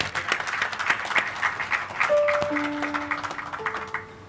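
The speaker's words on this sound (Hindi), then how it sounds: "हम ज़ोरदार तालियां बजाएंगे" Applause from a church congregation during a birthday celebration service, a dense patter of many hands clapping steadily, with a few faint sustained tones ringing underneath toward the end.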